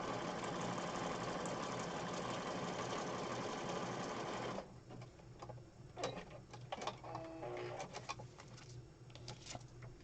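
A sewing machine stitches in a dense, steady whir for about four and a half seconds, then stops, leaving quieter handling clicks and rustles.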